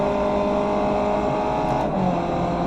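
A race car in the iRacing game at Circuit Park Zandvoort holds a loud, steady high engine whine at full throttle, with a brief dip and shift in pitch near the end.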